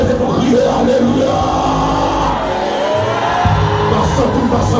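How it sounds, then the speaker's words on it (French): A church congregation shouts alleluia together in loud, sustained yells and whoops, a dense wall of raised voices filling the room without pause. "Levez-vous, crier, alléluia."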